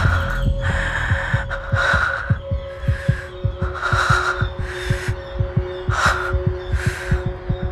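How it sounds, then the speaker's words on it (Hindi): A fast, steady heartbeat thumps on without a break, each beat a low double throb over a constant hum, with swelling breath-like whooshes every second or so. "तेरी धड़कन इतनी तेज क्यों चल रही है?"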